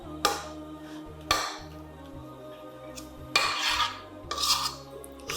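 Sticky zucchini bread batter scraped out of a bowl into a loaf pan: four or five separate scrapes and knocks, loud and close, spaced over a quiet background hum.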